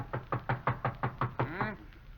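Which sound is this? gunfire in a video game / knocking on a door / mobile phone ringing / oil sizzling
knocking on a door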